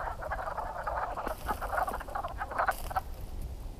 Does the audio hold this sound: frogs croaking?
yes